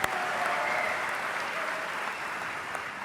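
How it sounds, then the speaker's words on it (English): An audience at a Basketball Hall of Fame enshrinement ceremony applauds Coach Krzyzewski with a broad, continuous roll of clapping that stays even for a few seconds and eases slightly toward the end. "clap it up."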